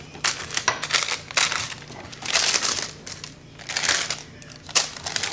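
Flour tortilla dough is pressed flat on parchment paper, giving loud, crinkling, crunchy rustles in several bursts with brief pauses between them, close up.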